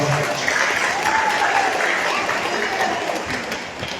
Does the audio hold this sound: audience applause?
yes